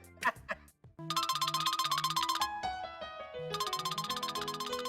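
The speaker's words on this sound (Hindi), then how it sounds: "फरहाना का फोन है।" After a brief burst of voices, a bright electronic ringtone plays a repeating melodic pattern, loud and close, continuing to the end.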